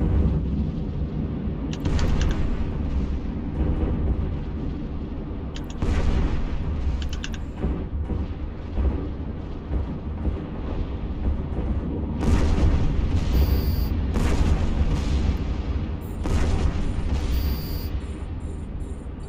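Ship guns fire in a space battle in EVE Online, with repeated heavy booming volleys over a constant low rumble, loud and dense throughout, some shots ringing with bright metallic tones.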